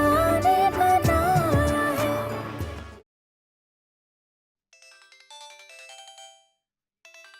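A melodic phone ringtone plays loudly, then cuts off; after a pause, fainter bursts of the tune return from farther away.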